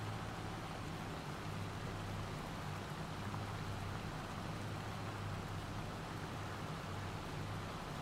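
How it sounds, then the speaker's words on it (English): Hail falls steadily in Farming Simulator 25, a dense, even hiss of pelting ice that stays constant and fairly faint throughout with no voices. "it's been hailing since 8 o'clock in the morning"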